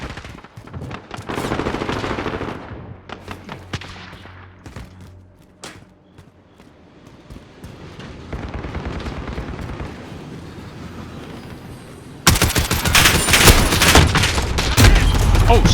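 Video game gunfire crackles in dense automatic bursts and scattered shots, dipping briefly before erupting into a louder, continuous barrage near the end.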